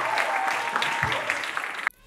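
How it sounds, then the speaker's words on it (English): An audience at a talent competition claps for a contestant, dense steady applause that cuts off abruptly near the end. "Please give a huge round of applause,"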